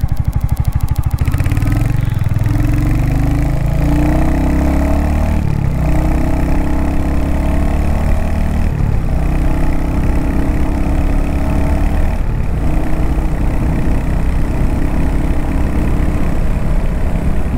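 A Royal Enfield Hunter 350 motorcycle's single-cylinder engine and exhaust, a loud, steady, close thumping drone with a few shifts in pitch as it changes speed while riding.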